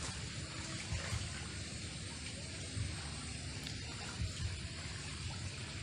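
A small stream with fish in it flows steadily beside a riverbank, a soft, continuous burble and trickle of water with faint voices at moments.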